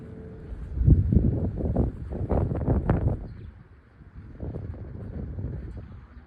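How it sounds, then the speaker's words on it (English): Sudden strong wind outdoors on a spring day, blowing in loud rumbling gusts against the microphone that rise, ease briefly, then build again. "it just got windy all of a sudden."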